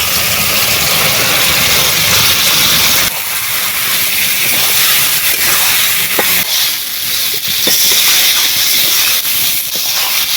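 Rice and lentils frying in oil with spices, a loud, dense, continuous hiss and sizzle that drops slightly partway through, with faint scrapes and knocks of stirring.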